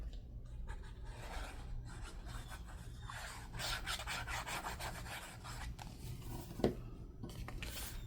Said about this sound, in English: I'm going to add my glue to the flap